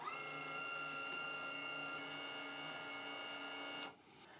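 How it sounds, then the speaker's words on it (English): An Arccaptain MIG200 welder feeding wire produces a steady, close mechanical whir with a tonal motor hum, running continuously and then cutting off abruptly near the end. "And now let's feed the wire through."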